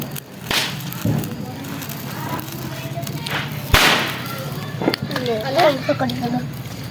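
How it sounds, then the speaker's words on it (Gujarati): Sparklers burning during Diwali celebrations give off sharp, irregular crackles and snaps at close range, mixed with people talking throughout. "જો ઘડીક લાલ ફૂલખણી કરે ઘડીક લીલી ફૂલખણી કરે"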